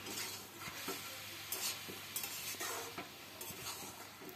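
Cabbage curry with fried potatoes being stirred in a pan, soft sizzling under repeated scraping strokes of a spoon against the pan, close and fairly quiet, no voices.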